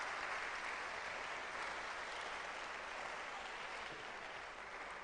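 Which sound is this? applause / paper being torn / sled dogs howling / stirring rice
applause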